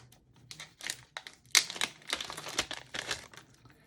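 Close crinkling of a cellophane packaging bag around craft dies being handled, in irregular bursts of rustling and crackling with short pauses between.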